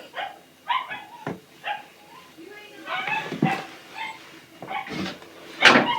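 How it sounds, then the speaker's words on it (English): A dog barks in short bursts and whimpers, with yips coming close and fairly loud among scattered noise, while a person speaks in between. "You get to hear a dog."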